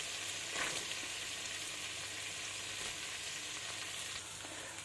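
Lemon rice is mixed in a frying pan, a soft, steady frying hiss with a few faint scrapes as it is stirred, quiet and continuous, with no talking.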